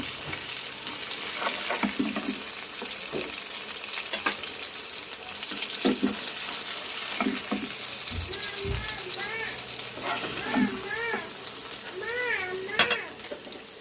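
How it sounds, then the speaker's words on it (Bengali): Rohu fish pieces frying in hot oil in a home kitchen pan give a steady, close sizzle throughout, with occasional stirring clinks and faint background voices. "মাছগুলোও ভাজা হয়ে গেছে তুলে নিব"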